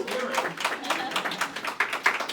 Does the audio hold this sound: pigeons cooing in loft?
no